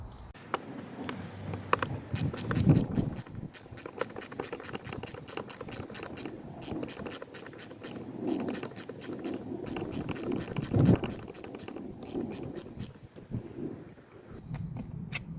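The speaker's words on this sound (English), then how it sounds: "we're gonna be using a T25 bit to undo the screws" Torx T25 bit undoing screws on an Audi A3 during a mass air flow sensor replacement, with faint repeated ratcheting clicks and small mechanical rattles up close, quiet throughout.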